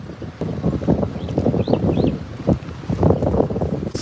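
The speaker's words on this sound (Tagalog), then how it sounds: "Sarap ng hangin." Steady wind buffets the microphone with a low, rumbling roar, gusting throughout; a few faint high chirps cut briefly through the noise.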